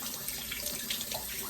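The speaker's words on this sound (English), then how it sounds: "I got my pepper here, which I'm gonna rinse" Water from a kitchen tap splashes steadily into the sink as a pepper is rinsed for cooking, a short, close, continuous hiss with no voices.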